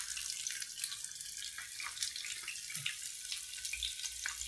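Fish for a Malvani fish fry sizzles in hot, spattering oil in a pan, a steady close hiss with small crackles throughout.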